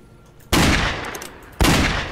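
Two sharp gunshots ring out in the Roblox game The Wild West, each a loud sudden crack with a decaying tail, about a second apart.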